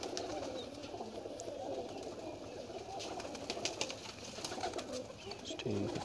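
Several pigeons coo continuously inside a loft cage, overlapping low rolling calls close by against a bed of ambient noise and scattered clicks, with a brief soft voice near the end.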